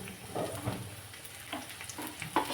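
Crushed garlic fries in oil in a home kitchen pan, giving a soft, steady sizzle with occasional crackles and stirring clinks. It is fairly quiet and close, and no one talks.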